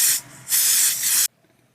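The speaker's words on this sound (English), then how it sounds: "I'm going to spray the mold halves with this Smooth On mold release." Smooth On mold release sprays onto plastic mold halves in two close, loud aerosol bursts of hissing, separated by a brief pause and cut off sharply.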